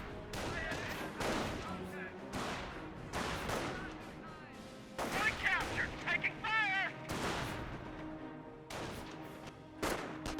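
MG42 machine gun and other small arms in a Company of Heroes 1 match, repeated sharp bursts of gunfire spread across the clip at moderate distance, with a commentator talking throughout.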